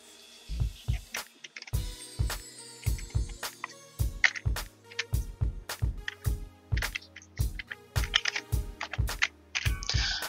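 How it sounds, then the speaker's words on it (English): Typing on a computer keyboard, close crisp key clicks in quick irregular bursts with short pauses, loud and alone with no talking. "let me go ahead and type that in"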